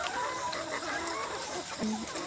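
Layer chickens on a poultry farm cluck and murmur continuously at close range, with a busy layer of other birds and coop noise underneath.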